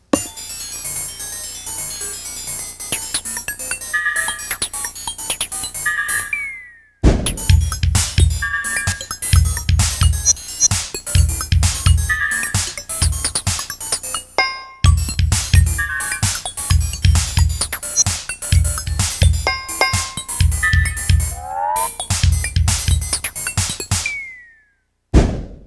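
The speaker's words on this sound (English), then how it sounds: "even if you want to even get into robotic type sounds, you can play those as well. So you make it sound very machine-like" A Roland TD7 electronic drum kit played with robotic, machine-like patches: dense fast hits with bright electronic blips, pitched sweeps and booming low thumps, broken by brief silences between loud sections; no talking.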